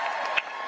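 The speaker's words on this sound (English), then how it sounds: "He throws it up and people cheer." A CPAC crowd cheers in a short burst, with a brief sharp shout or clap rising above the steady roar of voices.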